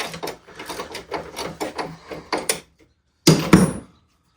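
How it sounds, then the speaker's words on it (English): A ratchet wrench clicks in quick bursts while pulling the transmission on a 1961 Volkswagen Beetle, a run of close mechanical ticks, a short pause, then a louder final pair. "That's just moving the ratchet."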